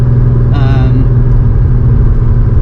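A Porsche 930 Turbo cruising off boost gives a loud, steady engine drone with a deep rumble, and a brief whining tone rises over it early on.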